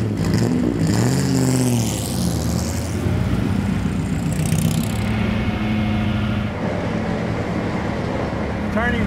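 A large Bugatti race car engine idles and revs loudly and steadily throughout, with a deep rumbling tone and a couple of rising throttle blips, voices faintly mixed in.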